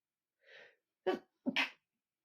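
A single sneeze: a soft intake of breath, then a sharp two-part burst, close and fairly quiet.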